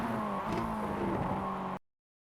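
Mazda MX-5 racing in the iRacing sim on the Navarra circuit, its engine buzzing loudly at high revs with a brief rise and fall as the throttle shifts, close and continuous, then abruptly cut to silence.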